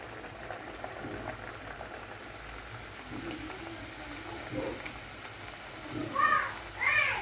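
Burelu, sweet dumplings, frying in hot oil, a soft continuous bubbling hiss at low level, with a few faint voices near the end.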